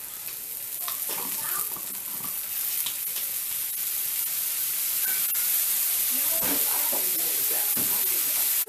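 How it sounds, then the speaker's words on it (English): Onions and garlic sizzle on a grill with a continuous bright hiss that swells slightly louder toward the end, broken by a few soft clinks and stirring scrapes. "I got the onions grilling. I'm going to add some garlic."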